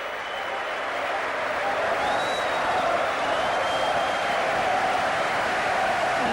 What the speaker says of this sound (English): the Liverpool fans go up to clap the travelling fans who've come all the way down to see them this afternoon